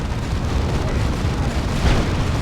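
Orbital bombardment explosions in the Warhammer 40,000: Dawn of War 2 video game rumble as a dense, continuous barrage of booms, loud and low, with one stronger blast near the end.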